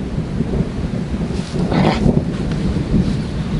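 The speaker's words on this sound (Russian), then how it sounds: "гром среди ясного неба." Thunder rolls under a clear sky beside a fishing pond, a low distant rumble that swells in the middle and fades again over steady wind noise, with no voices.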